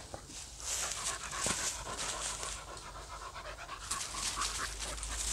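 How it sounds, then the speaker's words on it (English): Dogs pant rapidly and close by outdoors at a wild camp, a steady breathy rhythm running throughout, with no talk. "I need to retrain my dogs."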